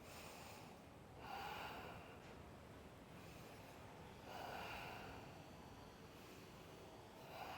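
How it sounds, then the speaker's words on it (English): Slow, steady breaths held through a yoga pose, soft and close, each long exhale rising gently then fading over several cycles with no talking. "Three more breaths."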